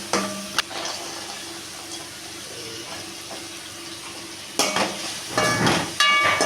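Sliced broad beans (avarakkai) tumble into a pan already holding curry leaves, onion and tomato, with a soft sizzle followed by clattering bursts as they land and are stirred.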